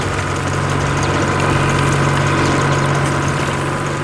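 Big green tractor working a farm field runs with a steady, continuous engine drone and low hum, constant and moderately loud with no pauses.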